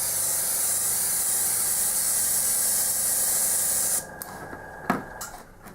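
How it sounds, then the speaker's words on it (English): An airbrush sprays black paint onto MDF terrain in a steady, close, loud hiss that stops abruptly near the end, followed by a few faint handling knocks. "And one airbrush."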